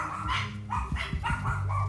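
Dogs bark in a quick series of short yaps, fairly close, over a steady background hum.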